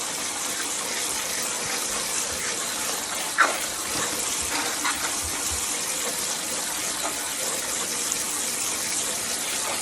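Running water gushing steadily while something is rinsed and drained, a continuous broad rushing hiss throughout with a brief knock partway in, close and even.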